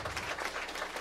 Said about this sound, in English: a huge round of applause for this venue for sticking around and booking local talent